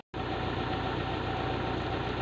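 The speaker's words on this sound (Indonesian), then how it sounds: "Mesin diesel berarti ini ya." A mini excavator's diesel engine idles steadily and loudly after a brief silent start, a constant rumbling drone with a slight rhythmic knock.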